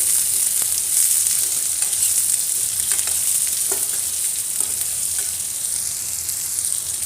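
Peeled, halved garlic, about a cup, sizzles and fries steadily in a hot pan for tamarind curry, a constant bright crackle with a few faint stirring knocks and no talk.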